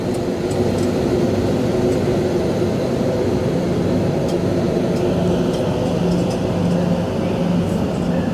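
A train pulling out of Stratford station in East London, a steady loud rumble of motors and wheels with low droning tones throughout, continuous and close, with no talking.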